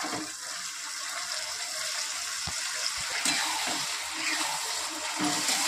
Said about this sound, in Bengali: সেদ্ধ করে রাখা ডালটা দিয়ে দেবো